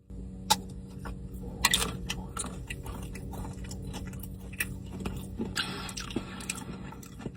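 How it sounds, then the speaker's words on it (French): Close, quiet chewing and crunching of a salted butter caramel chocolate with a crunchy inside texture, irregular bites and soft mouth sounds with no talk. "à l'intérieur on a de la texture, tu vois, ça croque un petit peu sous la dent"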